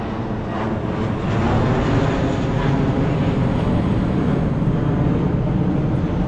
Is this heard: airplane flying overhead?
yes